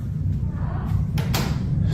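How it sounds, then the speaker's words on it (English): A door closing in an office, heard as a couple of soft thuds and knocks over a steady low rumble of background noise. "This thing's always closing doors."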